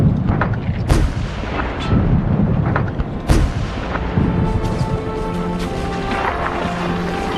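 Artillery and rifle fire on a First World War battlefield against advancing tanks: repeated sharp booms and cracks over a continuous rumbling din, loud and close.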